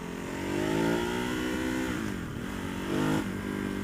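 A Ducati Hypermotard 939 engine revs and pulls under throttle in urban riding mode, its pitch climbing and easing in smooth waves, loud and close with wind rush behind it.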